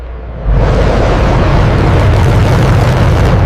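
A jet's afterburner kicks in with a sudden loud, broadband roar that holds steady and close, dense rumble filling the low end without pause.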